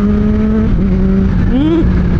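A 2024 Kawasaki ZH2 in sports mode pulls hard under acceleration, its loud, close engine note holding steady then sweeping upward in pitch near the end.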